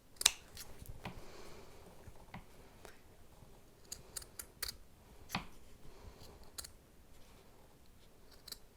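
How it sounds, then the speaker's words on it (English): Quiet, close snips and clicks of fabric scissors cutting felt come in irregular bursts, sharp blade closures separated by pauses of soft rustling. "Go ahead and cut the felt piece with the fabric scissors"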